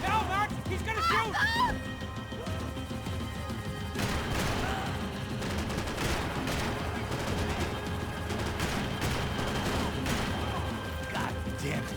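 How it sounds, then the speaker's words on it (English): Heavy gunfire in Max Payne 3, dense bursts of shots and crashing impacts over a loud continuous action background, with voices shouting over it early on. "He's gonna shoot!"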